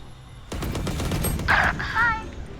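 Gunfire from a shooting video game: a fast run of rapid shots over about a second, then sharp bright impact or ricochet sounds, loud and close, with a voice speaking around it.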